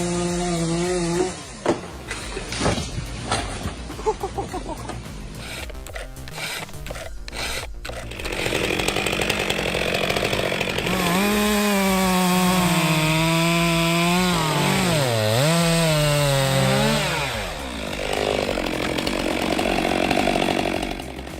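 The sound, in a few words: big chainsaw cutting a giant tree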